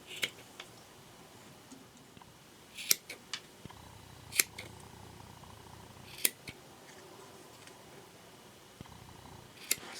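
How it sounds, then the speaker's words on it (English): Scissors snip while trimming material for an animatronic Grim Reaper costume, giving a handful of sharp, sparse clicks and cuts over a quiet room with no talk. "one thing I want to do is kind of trim them."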